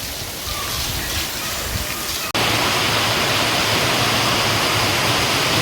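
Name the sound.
heavy rain falling on metal roof sheets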